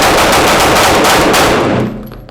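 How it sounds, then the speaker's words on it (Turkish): Turkish domestically made guns fire a loud, close burst of rapid shots that blur into a dense rattle for about two seconds, then cut off and leave a short echoing decay. "Şarjör tak. Silah kur. Nişan al. Hazır. At!"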